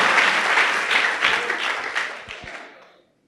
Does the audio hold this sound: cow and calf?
no